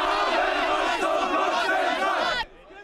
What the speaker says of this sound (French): sous les huées des contre-manifestants anti-Pegida.